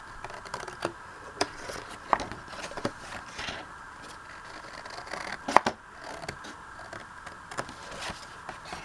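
Scissors snip out an awkward craft piece in a steady run of small, sharp clicks and cuts, close and fairly quiet, with a couple of louder snips.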